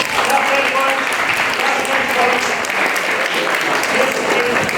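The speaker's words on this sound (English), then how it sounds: "Clap again. Clap 10 points." Quiz competition audience in a hall applauding, a dense, steady wash of many hands clapping continuously throughout, loud and close with no break.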